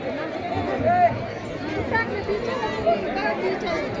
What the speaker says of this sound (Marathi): लय गर्दी आज रविवार असल्यामुळे